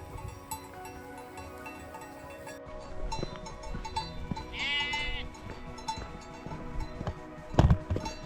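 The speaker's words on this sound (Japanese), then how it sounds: "また羊がいっぱいいる。" A flock of sheep bleats on a mountain trail in the Swiss Alps, with a clear wavering bleat in the middle, other animal calls scattered around it, and a sharp close thump near the end.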